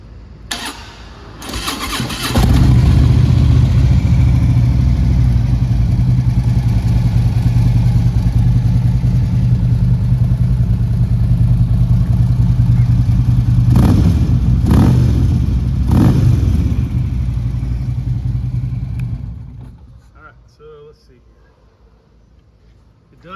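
A 2016 Harley-Davidson FLHTK Ultra Limited with a weak battery cranks and fires, then settles into a loud, deep, steady idle with a couple of blips before shutting off into quiet; a voice is heard briefly.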